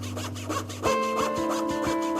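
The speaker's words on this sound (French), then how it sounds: "On actionne la scie avec le pied" A foot-operated saw cuts through a stack of wood marquetry pieces, its blade rasping in quick, regular strokes at close range after a brief lower hum.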